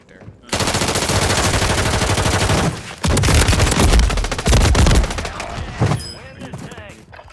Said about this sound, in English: They just shoot us through the fucking fence.